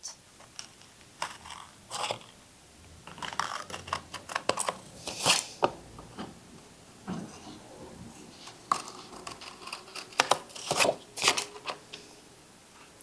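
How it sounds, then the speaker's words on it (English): Scissors snip through fabric while cutting out rounded corners, a series of short, crisp cuts in irregular bursts, close and fairly quiet, with no talking. "So I just draw my round corners and I'm going to cut them out."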